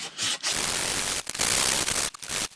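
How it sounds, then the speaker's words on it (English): Close, steady rasping strokes of 320 grit sandpaper rub across a raw bare-metal bike frame, hissing in sustained passes broken by a few brief pauses. "Yeah, I'm using 320 grit at the moment."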